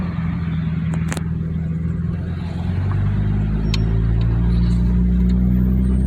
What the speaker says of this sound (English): All right, so now we're just taking off. Again, no clutch, just get on the gas.